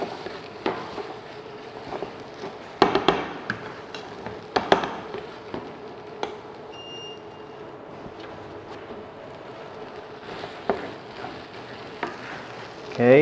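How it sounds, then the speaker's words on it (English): Pineapple fried rice sizzles steadily in a pan while a utensil scrapes and stirs it in brief clattering bursts, fairly close, with no talk over it. "Okay, quick stir."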